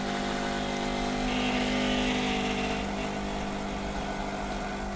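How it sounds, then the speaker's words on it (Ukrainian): An espresso machine pump drones steadily while brewing a shot of coffee, a continuous mid-pitched hum that stays close and even throughout, with no talking. "Пішло готування, воно досить швидке. В моєму випадку кава тече дуже швидко."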